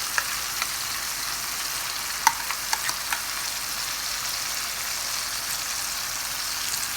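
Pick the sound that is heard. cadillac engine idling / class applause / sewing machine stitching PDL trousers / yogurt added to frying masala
yogurt added to frying masala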